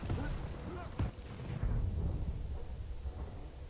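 Machine gun and shotgun fire in the arena shooter Quake Champions during a team deathmatch on Ruins of Sarnath, booming bursts and sharp blasts layered over a busy, rumbling battle mix with voices underneath.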